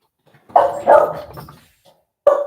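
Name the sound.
dogs barking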